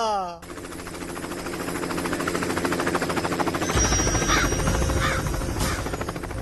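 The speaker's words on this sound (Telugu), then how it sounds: "మన ఊర్లో హెలికాప్టర్ ఏంట్రా" A helicopter drones loudly and steadily with a rapid rotor chop that grows heavier midway, while a voice speaks briefly.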